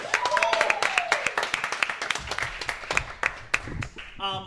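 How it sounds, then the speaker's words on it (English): An audience at a live show claps for a volunteer coming up, with individual claps standing out and thinning toward the end while someone talks over them. "Give her a round of applause, please."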